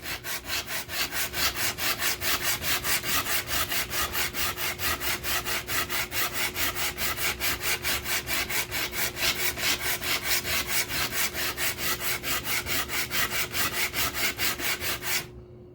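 Steady rhythmic scraping of a metal Optimus water block lapped back and forth on an abrasive surface, fast even strokes continuing for about fifteen seconds before stopping, close and loud.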